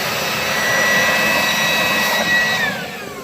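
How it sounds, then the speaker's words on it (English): A powerful blower roars with a steady high-pitched whine close up, blowing dust out of a truck cab, its pitch dipping slightly toward the end as the airflow shifts. "just take your blower and just like all around here"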